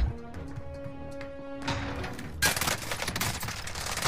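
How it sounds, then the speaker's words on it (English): Rapid bursts of M16 rifle fire in Warzone on the Verdansk map, loud and dense automatic shooting that starts partway through and continues to the end, with no talk over it. "I don't know why I shot M16 like that, bro"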